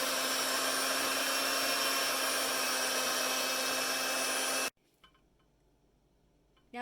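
An electric mixer whirs steadily through butter, warm milk and honey, a loud even whine that cuts off abruptly, leaving quiet kitchen clatter.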